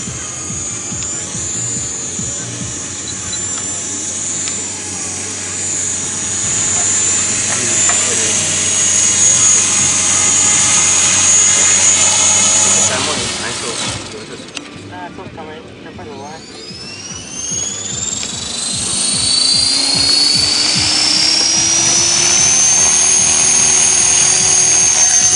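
A model helicopter flies at an outdoor village festival air display in Újkenéz, Hungary, in 2010. Its engine whines steadily, drops away briefly midway, then returns with a rising, sweeping pitch, while people talk nearby.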